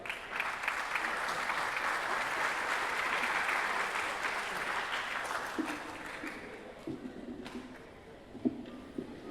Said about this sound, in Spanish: Invitamos y pedimos fuertes aplausos para él.